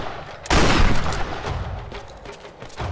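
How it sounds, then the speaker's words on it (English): A single heavy shotgun blast in the action game Tomb Raider hits hard and close, followed by a few fainter shots and the crackle of a firefight fading behind it. "Gotta love the shotgun."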